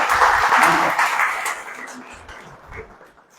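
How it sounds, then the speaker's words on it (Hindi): An audience at a lecture on Vedanta applauds Dr. Karan Singh, a burst of clapping that starts strong and gradually thins out, with a voice speaking faintly beneath it. "ऐसे डॉक्टर करण सिंह जी के लिए मन से तालियां बजाने का"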